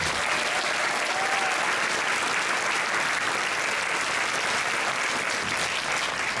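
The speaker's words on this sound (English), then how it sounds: "We'll give you a round of applause" Crowd at a D23 Expo panel celebrating the art of Disney Parks claps in continuous, even applause that stays loud throughout.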